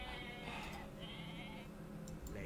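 Goat bleating in a strategy video game, a short bleat heard faintly over game background sound with no talk.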